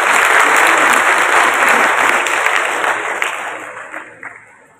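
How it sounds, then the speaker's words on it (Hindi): A large crowd at a welcome ceremony for the Maharana Pratap 482nd birth anniversary in Udaipur claps loudly and densely, the applause gradually thinning and fading out toward the end. "जोरदार तालियां जरूर बजनी चाहिए।"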